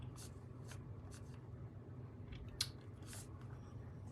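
Craft material for a Christmas kit project being cut, heard as a few soft, faint snips spread across a quiet room, with one sharper cut standing out near the middle.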